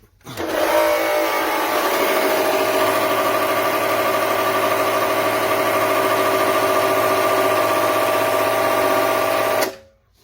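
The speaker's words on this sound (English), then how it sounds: "And then now this is what the cultivator sounds like." A Greenworks 27072 8-amp, 10-inch corded electric tiller runs with a damaged motor, making a loud, steady droning whine with a rough buzzy edge for about nine seconds before stopping abruptly.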